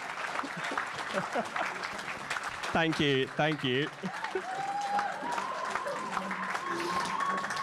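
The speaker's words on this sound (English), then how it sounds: "Please stop clapping." Sustained audience applause at the SPA National Awards 2025 ceremony in Exeter, loud and continuous, with a speaker briefly talking over it partway through.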